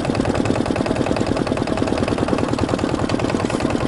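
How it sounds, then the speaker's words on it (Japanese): Yanmar Diesel SK single-cylinder marine engine running, a loud, close, rapid and steady rhythmic chugging that continues without pause. "こちらはね、ヤンマーディーゼル SK 型です。"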